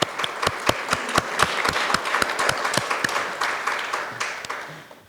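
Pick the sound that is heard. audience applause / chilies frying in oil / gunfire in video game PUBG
audience applause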